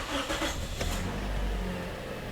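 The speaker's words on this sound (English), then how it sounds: "Now I'm gonna start the engine." A Toyota Corolla being diagnosed for P1605 and P0171 faults cranks and settles into a low, steady engine rumble, moderately loud and close, with no one speaking.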